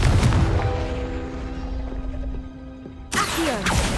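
A Confringo blasting spell explodes in the Hogwarts Legacy video game, a sharp blast followed by a ringing, decaying tone and then a second abrupt impact near the end.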